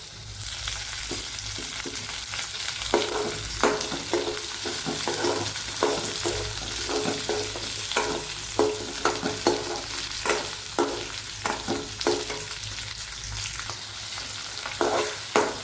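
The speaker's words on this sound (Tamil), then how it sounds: "தக்காளி வதங்கட்டும்." Chopped tomatoes sauté in hot oil in a pan for a bitter gourd kuzhambu, a steady close sizzle broken by repeated sharp scrapes and taps as the mixture is stirred.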